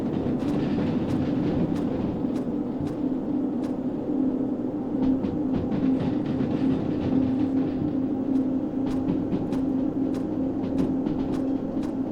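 A long, heavily loaded electric freight train runs on in the video game Derail Valley, a steady rumbling drone with rhythmic rail clicks ticking through, continuous and without talk.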